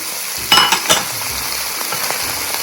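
Chilli chicken stir-fries in a pan with chilli garlic sauce and soy sauce. A bright, continuous sizzle runs throughout, with a few sharp spatula clanks and scrapes near the start. Nobody speaks.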